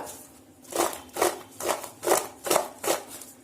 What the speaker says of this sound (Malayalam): ഇനി ഇതുപോലെ നന്നായിട്ടൊന്ന് മിക്സ് ചെയ്ത് കൊടുക്കുക.